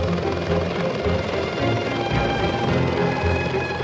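A Mi-1 helicopter's engine roars steadily with the rapid thudding of its rotor, loud and close, without pause.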